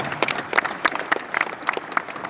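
A seminar audience gives a short burst of applause, scattered claps rising and thinning over a couple of seconds at moderate volume in an indoor hall.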